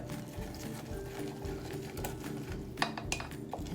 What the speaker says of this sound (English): And then mix that all up.